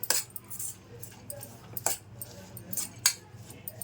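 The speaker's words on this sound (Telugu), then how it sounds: "ఇవి ఉప్పు అంతా కలిసేటట్టు కలుపుకుందాం" Leftover idli batter with spinach and salt is stirred in a bowl, giving soft mixing sounds with three or four sharp spoon clinks against the bowl, close up, over a low background hum.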